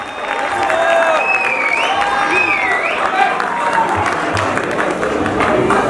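Audience applause and crowd noise after a stage performance, loud and sustained throughout, with a voice and tonal melodic sounds running over the clapping.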